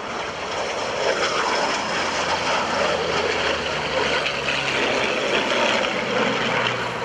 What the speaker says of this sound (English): from World War II, that's the Yak-9, jet and prop.